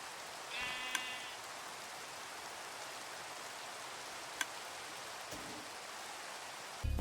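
Two sheep bleats in the video game Minecraft, each a short, wavering cry several seconds apart, over a faint, steady background hiss like light rain, with a couple of tiny clicks between them.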